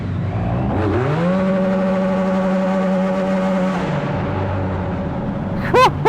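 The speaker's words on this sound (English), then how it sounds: "Bit of rev limiter action there." Ariel Ace motorbike revving hard inside a big tunnel, the engine note climbing and holding steady at the rev limiter for a few seconds before dropping away, loud and echoing, with a brief sharp whine near the end.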